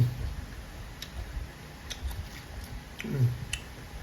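Crisp crunching bites of battered fried fish and sharp crackles, close up and fairly quiet, repeating irregularly with soft mouth sounds between them.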